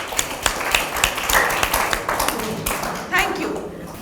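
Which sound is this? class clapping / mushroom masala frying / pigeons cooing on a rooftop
class clapping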